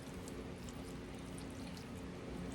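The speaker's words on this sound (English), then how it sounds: "take our apple cider vinegar and we're going to pour it over this." Apple cider vinegar is poured over a fruit cake, giving a steady, soft liquid splashing and trickling sound that runs continuously and fairly quietly throughout.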